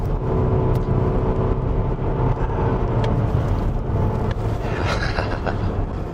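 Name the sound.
Volvo S90 T8 car accelerating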